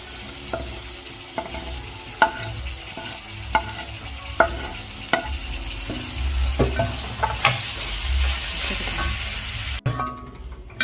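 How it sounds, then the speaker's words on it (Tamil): Diced carrots and potatoes sizzle and fry in a pan while a utensil stirs them with repeated clacks against the pan, steady and close. "கேரட்டையும் உருளைக்கிழங்கையும் கொஞ்சம் வதக்கிட்டு"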